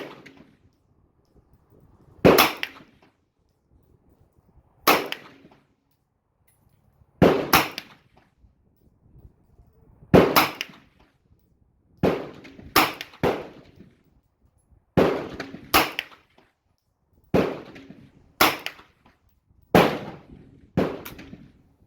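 Shots from a Romanian WASR M 9mm rifle fired at a 50-yard target, about eleven sharp loud cracks, some single and some in quick pairs, spaced by a couple of seconds, with no talk.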